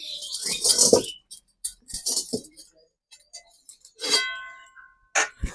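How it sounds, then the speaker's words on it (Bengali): A metal kadai set down on a village kitchen stove makes a few sharp clinks and clanks, close and brief, with scattered knocks and short ringing tones between them and no voices. "এবার কড়াইটা বসিয়ে দেবো আমি"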